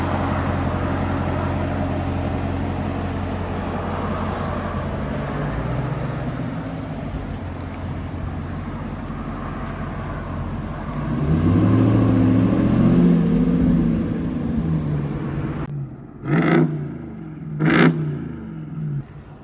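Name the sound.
RAM TRX with Corsa Xtreme exhaust revving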